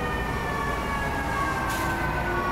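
A fire engine siren wails steadily in EmergeNYC, a sustained tonal sound running through the whole moment over a constant rumbling backdrop, with a short hiss-like burst near the end.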